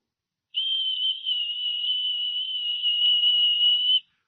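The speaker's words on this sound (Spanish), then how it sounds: "Un silbo apacible y quieto" A gentle, quiet whistle holds one steady high note for about three and a half seconds, alone against silence, with a soft start and a clean stop.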